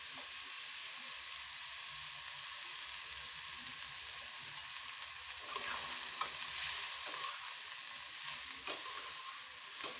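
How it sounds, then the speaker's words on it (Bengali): Mushrooms fry in a pan for pakoras, a steady close sizzle that grows louder midway, with stirring scrapes throughout. "মাশরুমটাকে ভালো করে ভেজে নেব"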